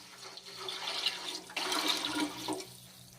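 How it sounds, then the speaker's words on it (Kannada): Water pouring into a cooking pot of masala rice, a steady faint splashing, gurgling stream that swells midway and tapers off, close by with no voices. "ಒಂದೂವರೆ ಲೀಟರ್ ನೀರು ಹಾಕೋಣ"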